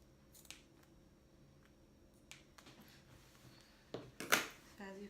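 Scissors cut through folded denim jeans being turned into a crop top, giving sparse soft snips that build to a few sharp, close crunching cuts near the end.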